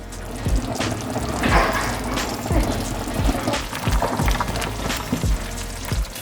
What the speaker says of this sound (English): I always add a little bit of pasta water.